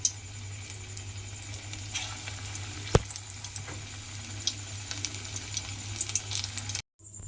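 Small tomato pakoras frying in hot oil make a faint, constant sizzle dotted with light crackles and pops, with one sharp pop midway before the sound cuts off abruptly at the end.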